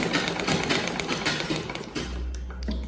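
A sewing machine stitching straight lines runs with a steady, rapid mechanical whir close by; near the end the stitching stops briefly and a low motor hum is left before it resumes.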